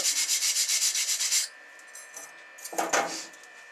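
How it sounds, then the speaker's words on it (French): A wire brush scrubbing a fresh weld on a homemade steel fabrication table, about ten quick rhythmic strokes, loud and close, then a pause with faint clinks and one last short scrape, without talk. "Un coup de brosse."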